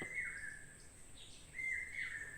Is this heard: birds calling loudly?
yes